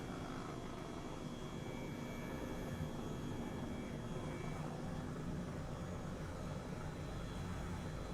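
Helicopter flying in the Microsoft Flight Simulator video game, a steady, fairly quiet rotor and engine drone that holds level throughout with no talk.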